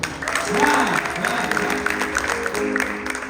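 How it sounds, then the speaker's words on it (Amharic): Audience applause at a children's church service, a dense steady clapping sustained across the whole stretch with voices mixed underneath. "ለእሱ አጨብጭቡለት እስኪ።"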